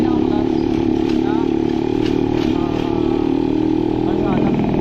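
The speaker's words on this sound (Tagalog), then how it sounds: "Yan mga motor, ito na po yun." Motorcycles run along a highway beside land where houses are being built, a loud, steady engine drone with a change in pitch near the end, while someone talks over it.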